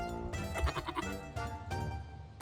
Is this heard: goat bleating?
yes